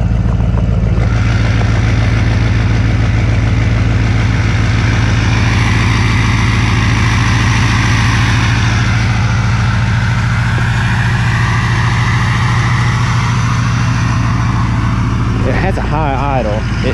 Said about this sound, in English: It might have to idle for a minute or so, but the engines on these trucks are a little loud